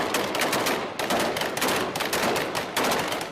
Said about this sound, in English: Inmates wave in desperation as gunfire echoes through the compound.